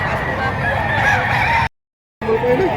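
Chickens and roosters at a busy poultry market in Padre Garcia, Batangas, clucking and crowing close by, with a continuous dense flock din that cuts out briefly.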